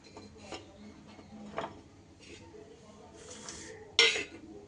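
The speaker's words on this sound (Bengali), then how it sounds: "এইবার আমি একটা চামচের সাহায্যে পটলের মাঝখান থেকে এই শাঁসগুলো বের করে নেব।" A metal spoon scrapes the pulp out of halved pointed gourds (potol), giving soft scraping strokes and a few sharp clinks against a dish in a quiet kitchen, close and fairly faint.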